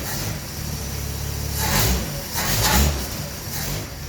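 A Plymouth Belvedere's engine running nearby, a low steady rumble that swells twice in brief revs before settling back toward idle.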